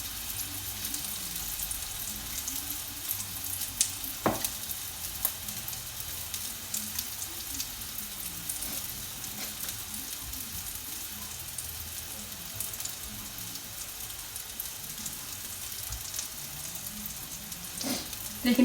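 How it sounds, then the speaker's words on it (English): Hot pan for pasta with meatballs sizzling steadily with a dense hiss and scattered crackles, close and continuous, with no talking. "You can tell it's sizzling because it's hot."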